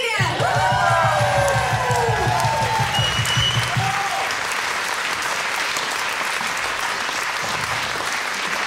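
A concert hall audience bursts into loud, sustained applause with cheers and whoops for a soprano, a low roar of voices rising at first and then settling into dense, steady clapping.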